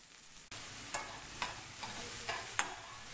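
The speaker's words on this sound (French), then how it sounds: "Je mets quelques gouttes d'huile d'olive. Je fais revenir mes oignons." Onions frying in a few drops of olive oil in a pan, a steady close sizzle broken by several regular scraping strokes as they are stirred.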